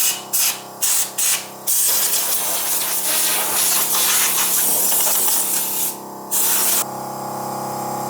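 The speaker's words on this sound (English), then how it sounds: "That compressor is ruining my ability to really film." An air compressor running in a workshop during a Harley chopper build, with loud, close, steady hissing and rushing air broken by short bursts at the start and a quieter hum at the end.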